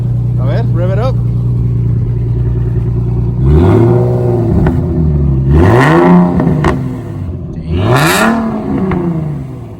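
A Nissan 370Z with a new loud exhaust idles, then three sharp revs rise and fall close up, each throttle blip roaring over the idle, while voices talk briefly in the background.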